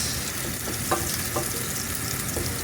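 Garlic fries in a pan for a Filipino sauté, making a steady, moderate sizzle with a few soft stirring clinks.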